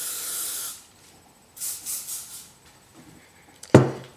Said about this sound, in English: and then another hairspray with your hair gathered.